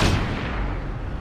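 Gunfire in the video game Cyberpunk 2077, one loud booming shot or blast followed by a dense rumbling burst that fills the whole short moment.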